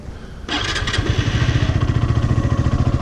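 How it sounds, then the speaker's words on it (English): A CF Moto 150NK 150cc motorcycle engine starting up close: a brief starter whirr, then the single-cylinder catches and settles into a steady, loud, pulsing idle with no talk. "Turn key, holding clutch, press this red button down, and press this button here, and turns on your bike."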